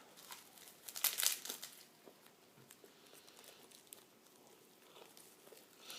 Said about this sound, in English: So I'll just take a bite out of it